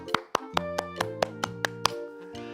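Children clap at a church service in about nine sharp, evenly spaced claps over a sustained musical chord, close and moderately loud.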